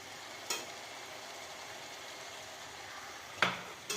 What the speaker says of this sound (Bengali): মাংস দিয়ে দাও।